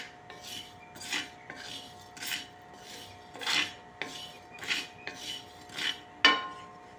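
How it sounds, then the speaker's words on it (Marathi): Two spoons of sesame seeds dry-roasting in a pan with onion, stirred in steady rasping scrapes about twice a second, close and fairly loud, with no talking. "दोन चम्मच तिळे ॲड करायचे आहेत ते सुद्धा थोडं भाजून घ्यायचं आहे"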